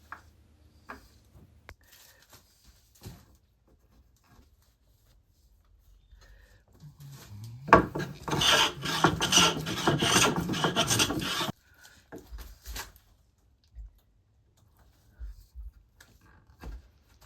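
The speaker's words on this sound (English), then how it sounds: "I still used a round-soled plane for final cleanup" A round-soled hand plane cleans up the hollow of a wooden spar for a carvel-planked boat: one sustained rasping stroke of several seconds, surrounded by near silence and a few light taps.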